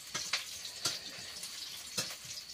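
Onions and coriander powder fry in a pan with a soft, steady sizzle, broken by a few sharp hissing spurts as the mix is stirred, quiet and close, with no one speaking.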